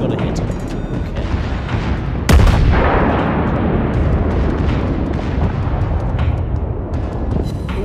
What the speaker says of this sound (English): And try for plunging fire.